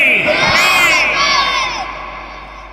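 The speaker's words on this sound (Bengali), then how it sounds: "সকলেই জোরে জোরে আল্লাহু আকবার, লিল্লাহি তাকবীর" A large crowd at an outdoor religious gathering in Brahmanbaria loudly chants Allahu Akbar in unison, one big swelling shout with a reverberant tail that fades over a couple of seconds.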